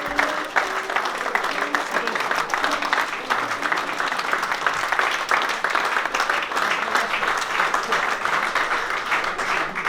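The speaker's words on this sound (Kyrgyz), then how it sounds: "Катуураак колдоп турабыз, кол чаап" An audience at an anniversary charity gathering in Tash-Kumyr claps steadily and densely for the whole stretch, a sustained wash of hand claps with faint voices mixed in.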